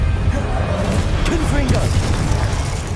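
The Glacius freezing spell is cast in Hogwarts Legacy, a brief icy burst and crackle over rumbling game ambience, with a character voice calling out briefly.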